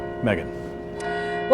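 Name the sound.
church bells ringing at Cincinnati Church Cathedral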